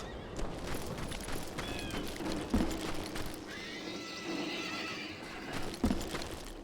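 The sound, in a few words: horse neighing and galloping in video game Call of Juarez Gunslinger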